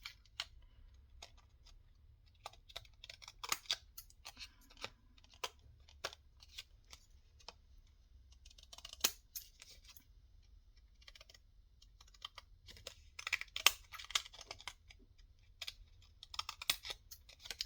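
Sharp, irregular snips of scissors cutting paper, close and fairly quiet, with short pauses between bursts of cuts.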